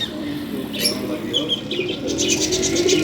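Pigeons coo in low throaty bursts while sharper chirps and flurries of flapping wings break out, a close, busy scuffle with no talking.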